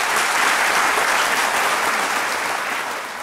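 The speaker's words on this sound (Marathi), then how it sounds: "डेव्हिड धवनसाठी टाळ्या" A studio audience at a televised courtroom-style interview show claps for film director David Dhawan, a dense sustained round of applause that stays loud throughout and tapers slightly at the end.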